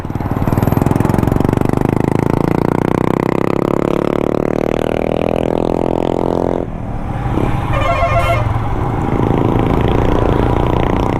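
Loud, raw motorcycle engine running with no silencer fitted, a steady blaring drone that rises in pitch as the bike accelerates, briefly drops, then carries on through construction-zone traffic on a mountain road between Siliguri and Gangtok.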